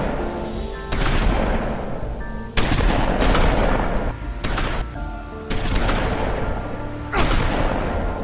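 Shotgun blasts in The Wolf Among Us, five loud booming shots spaced a second or two apart, each trailing off in a rumbling echo.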